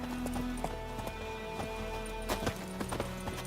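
Hooves of Roach, Geralt's horse in The Witcher 3: Wild Hunt, clip-clop in a quick galloping rhythm over in-game background sound, with a few sharper impacts toward the end.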